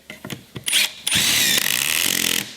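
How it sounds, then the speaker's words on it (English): A power drill whirs up in short bursts, then bores a pocket hole into wood through a Kreg jig with a loud, continuous grinding whine before stopping. "This time I'm going to use this flute for my drill."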